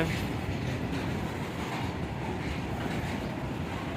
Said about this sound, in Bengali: এটা হচ্ছে মাল ট্রেন এই মাল বজায় করা যাচ্ছে কয়লা আছে